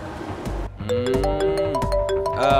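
A phone ringtone plays as a loud, melodic run of repeated electronic tones that starts after a short pause and continues steadily to the end.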